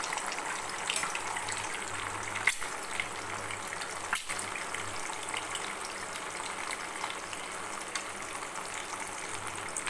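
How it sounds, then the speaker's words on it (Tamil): Two eggs frying undisturbed in hot oil make a steady, even hiss and crackle throughout, with two brief dull knocks partway through and no voices. "இப்போ அதில் வந்து 2 முட்டையை உடச்சி ஊற்றிக்கலாம்"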